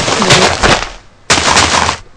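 Minecraft TNT blocks detonate in two loud, roaring bursts separated by a short pause, each a dense crackling blast that cuts off abruptly, with no talking.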